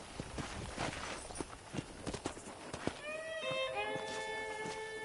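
Horse hooves clip-clop in a rhythmic walking gait in the Red Dead Redemption game, with a snort or whinny partway through, all under steady talk and ambient background.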